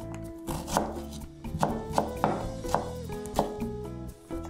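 Knife chopping crisp young long beans into small pieces on a cutting board, a quick series of sharp, close taps in uneven rhythm, with faint background music underneath.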